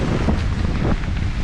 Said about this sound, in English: the wind comes in gusts, bursts